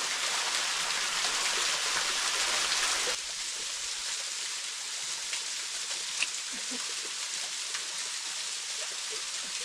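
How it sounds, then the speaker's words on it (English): Water falls from a natural rock fountain along a trail, a steady close hiss of splashing spray with faint scattered drips. "Nature's water fountain."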